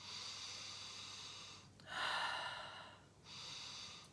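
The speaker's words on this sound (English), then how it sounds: "whereas this is chest breathing" A person demonstrates chest breathing, audible as close, airy breaths alternating between a long steady exhale-like hiss, a louder inhale, and another steady breath. No speech is heard.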